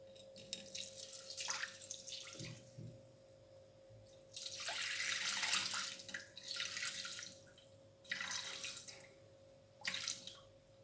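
Water from a tap runs into a greased salad bowl for pizza dough, pouring in several separate bursts with short pauses between them, close and fairly loud over a steady background hum.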